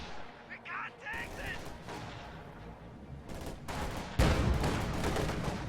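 Gunfire from an MG42 machine gun in a World War II strategy video game, bursts of shots and artillery booms layered over battle noise, growing louder toward the end with a commentator talking over it.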